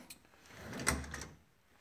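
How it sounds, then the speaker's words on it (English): A kitchen drawer slides open with a short, quiet rumble and a soft clack near the middle, with no speech. "have we looked in this drawer yet?"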